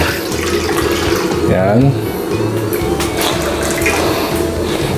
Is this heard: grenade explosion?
no